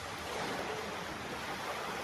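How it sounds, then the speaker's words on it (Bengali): Sea waves wash onto a quiet beach, a soft continuous surf rumble heard faintly at a distance, with no voices. "এই সমুদ্রের শব্দটা কার ভালো লাগে?"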